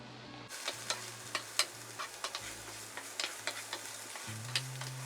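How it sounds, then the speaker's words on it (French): Onions sautéing in oil in a frying pan, a soft steady sizzle with a series of light, irregular spatula clicks and scrapes, fairly quiet and close, no talking. "Première étape, ça va être de faire sauter un peu les oignons"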